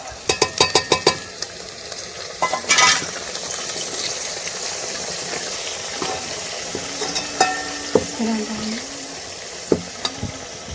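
Onion and garlic sizzle in a hot pan with frequent metallic stirring clinks and scrapes, the frying crackle steady underneath.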